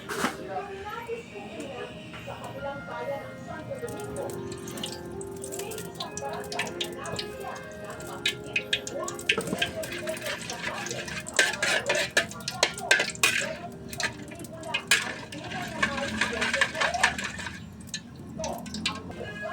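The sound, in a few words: sautéing onion and garlic in a pan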